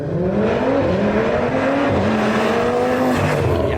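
An Audi RS3 engine revs hard and climbs through rising pitch sweeps, loud and close, with a raspy, rumbling exhaust note.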